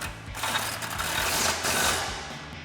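A ratchet with a 16mm socket tightens a bumper bolt on a 2016-2018 Silverado 1500, giving a quick run of close, light clicking over a faint background noise.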